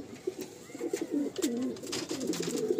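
Madrasi pigeons cooing softly close by, a run of low rolling coos repeating through the moment with a few faint clicks and rustles around them.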